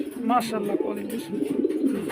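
Pigeons at a farm in Mohammadpur, Magura, Bangladesh keep up a steady, warbling low coo close by, while a person speaks briefly near the start.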